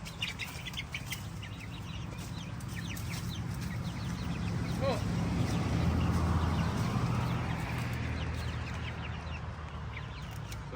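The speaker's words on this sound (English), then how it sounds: "Okay, so those are our chickens." Backyard chickens clucking at a homestead, with scattered soft clucks and chirps over a low outdoor rumble and a brief spoken exclamation nearby.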